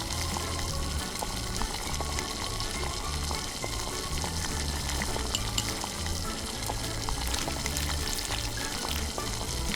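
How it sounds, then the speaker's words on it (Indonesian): Pasta cooks in a pot of boiling water, a steady, close bubbling and hissing with scattered small pops and crackles that stays at an even level throughout, no voices present. "Masukkan pasta ke air mendidih."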